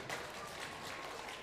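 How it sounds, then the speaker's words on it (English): Brief, soft applause from a congregation at an Erev Shabbat service, a steady patter of clapping heard at a moderate distance. "Let's give a round of applause."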